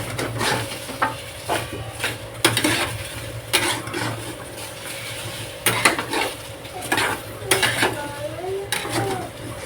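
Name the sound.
okra (bhindi) frying in a pan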